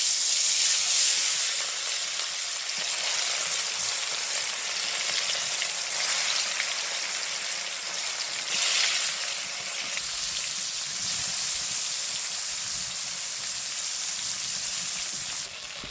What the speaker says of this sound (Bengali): তেল গরম হয়ে গেছে, এখন মাছ দিয়ে দিই।